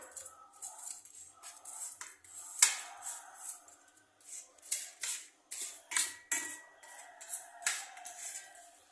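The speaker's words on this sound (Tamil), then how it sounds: "இப்போ நம்ம கிண்டி விட்டுக்கலாம்" A spoon stirs salted food in a pan, making irregular metallic scrapes and clinks that come in short bursts, close and fairly quiet, with no talking.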